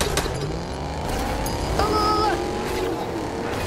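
A Fortnite car engine drones steadily with a rising whine partway through, busy and continuous, with other game sounds mixed in.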